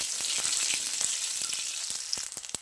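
Green chillies and curry leaves sauté in hot oil in a pan while making Gujarati patra balls, a continuous close sizzle with crisp popping crackles that grow sharper toward the end, with no voices.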